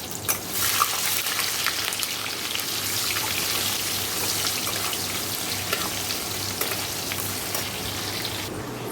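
Onions tossed into hot oil, where potatoes were fried for chicken curry, give a loud, steady, close sizzle with a constant frying hiss and a few faint scrapes. No one speaks.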